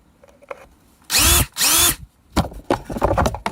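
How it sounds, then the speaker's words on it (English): A power drill bores through plywood for a hanging garden tray, two loud sustained bursts of whining motor and grinding wood close by, followed by softer scraping and handling noises. "mark where this wants to be, and then drill that guy out"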